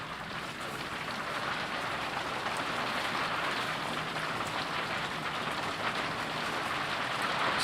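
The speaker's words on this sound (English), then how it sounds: "I'm silent because of the rain." Heavy rain pours in a dense, continuous hiss of drops hitting a surface, steady and loud throughout with no voices.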